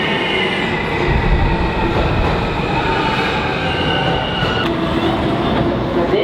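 A New York City subway train rolls along with a loud, continuous rumble and rattling rail noise, faint wheel squeals and clatter riding on top, close and enveloping from inside the car.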